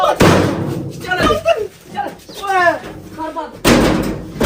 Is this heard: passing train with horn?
no